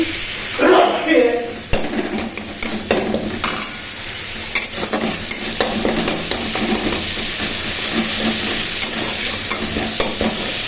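Chopped tomato, nigella seeds and chili frying in hot oil: a few clattering stirs at first, then a steady, close sizzle with occasional utensil scrapes against the pan.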